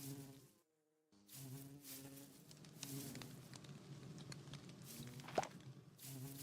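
Buzzing bees in a hive-breeding video game, a soft, continuous droning hum that breaks off briefly near the start and then returns, with light tapping sounds over it.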